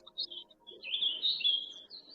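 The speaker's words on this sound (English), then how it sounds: "Oh, I hear some really cool birds." Birds chirping outdoors at night, bright high calls trilling and fluttering across the whole stretch, fairly clear and close with no talk over them.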